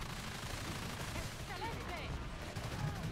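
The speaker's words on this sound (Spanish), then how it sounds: "Tengo la arma descargada, pues voy a utilizar el rifle." Rifle fire in the video game Evolve, rapid shots blending into a dense, continuous crackle of combat noise with someone talking over it.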